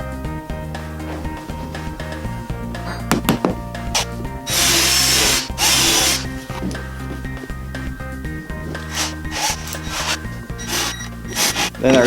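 A power drill bores a quarter-inch hole into wood for a pocket hole jig, with two loud whirring bursts amid scraping and handling of the workpiece, close up.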